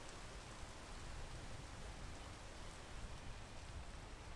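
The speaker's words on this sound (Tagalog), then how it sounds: "Kaya po mawala ni ulan na" Rain falls in the video game PEAK as a steady, even hiss of dense rainfall, quiet and unbroken, with no voices during the stretch.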